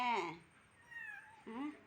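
A kitten lets out a couple of thin, drawn-out meows, soft and near, with a brief pause between them.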